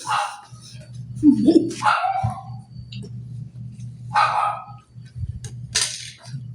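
A dog gives several separate barks and yips at close range, with low background rumble between them.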